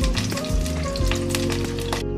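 Grated ginger and slit green chilies sizzle steadily in a hot pan, a dense close crackle holding at an even level throughout, with faint tonal sounds in the background.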